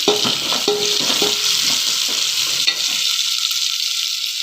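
Onions and garlic fry with salt in a pan for fish curry, giving a steady close sizzle broken by repeated scraping and clinking strokes of stirring.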